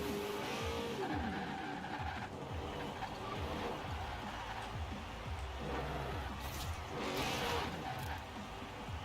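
A race car in Forza Horizon 4 growls and revs through a continuous engine roar, with tire squeal and skidding mixed in, fairly faint and steady with no talk.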